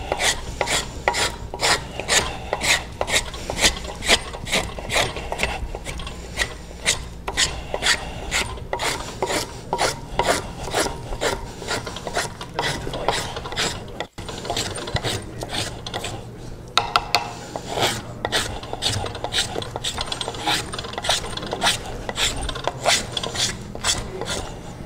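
Steady back-and-forth rasping of a file on a wooden decoy blank being shaped by hand, a dense run of rhythmic scraping strokes, close and continuous, with a brief pause midway.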